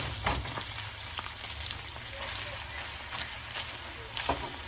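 Meat sizzles and crackles steadily in a hot pan, with occasional scraping stirs and a low background rumble.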